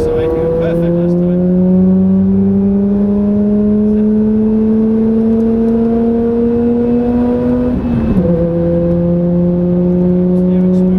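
Car engine revving steadily during a driving lesson, its pitch climbing slowly for several seconds before a brief dip and settle as the car shifts, with an instructor talking over the engine drone.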